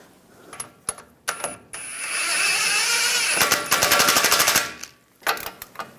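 Impact wrench tightening a nut on the front knuckle of a 2011-2018 Ram 1500: short hammering bursts, then a sustained loud rattling run and a string of sharp impacts, with a few clanks before and after.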